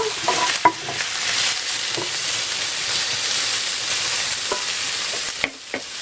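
Food fries in a hot pan while being stirred, producing a steady, dense sizzle broken by scattered scraping and clattering strokes, close by and without any talking.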